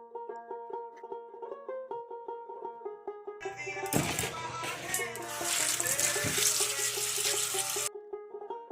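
Running tap water rinsing sandy bathua greens in a kitchen, a loud rushing splash that starts abruptly and continues for several seconds after soft ringing tones and faint talk.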